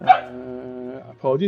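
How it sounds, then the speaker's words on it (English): A dog at home gives a drawn-out, tonal whine-like bark in the background while someone plays a computer game, followed right after by a brief spoken word from a nearby voice. "that was my dog in the background."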